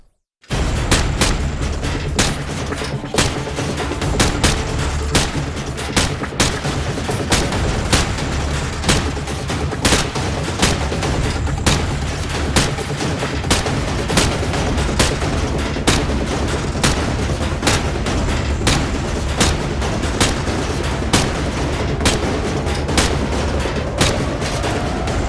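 Rifle fire at pop-up targets on a Call of Duty 4: Modern Warfare training range, loud sharp shots repeating at a steady rapid pace over a dense continuous battle-like backdrop for the whole stretch.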